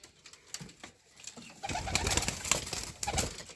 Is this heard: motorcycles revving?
no